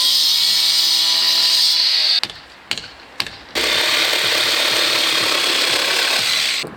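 Cordless power driver running screws into timber rafters during a slate roof repair, a loud sustained whine broken by two short pauses, then a long steady drive.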